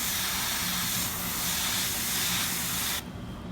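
Paint sprayed from a nozzle while clearing a clog, a loud steady hiss holding for about three seconds before it stops abruptly, leaving a quieter background.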